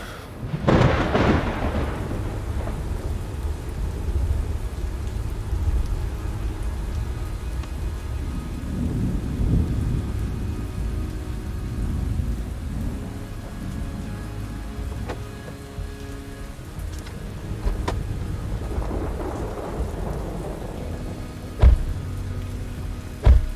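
Heavy rain pours steadily, with a loud thunderclap near the start and softer rumbles rolling in later, a continuous stormy wash used as a tabletop RPG ambience effect.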